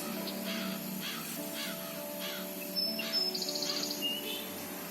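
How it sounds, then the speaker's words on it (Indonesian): Bird calls, apparently crow-like caws and chirps, come faintly and intermittently from some distance amid quiet outdoor ambience, with a brief burst of brighter chirping near the end. "Wah, Ita, lihat burung itu."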